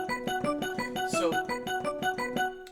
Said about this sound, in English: this is actually the Kronos making this bell sound